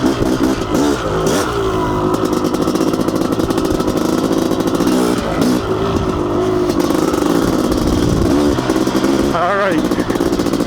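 Honda CR500 two-stroke dirt bike ridden along a narrow single-track trail, its engine loud and constant with rising and falling revs close by, a rider's voice speaking over the engine at times.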